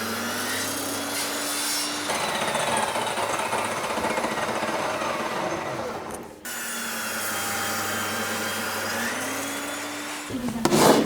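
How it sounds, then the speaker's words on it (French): A power saw cuts walnut pieces to identical length against a clamped stop while building wooden tilt-out drawers: two sustained, loud cuts with a droning motor whine, split by a brief break around the middle and no talking. "Comme ça je vais couper les deux exactement la même taille."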